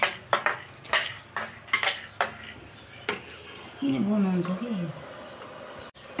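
Thirty-two spices being pounded by hand for a medicinal herbal mixture, heard as a series of sharp, evenly spaced thuds close by, then stopping as a person talks over the later part.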